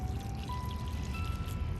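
Hot water poured from above over fermenting greens while making gundruk, a steady, close splashing flow that lasts throughout with no pauses.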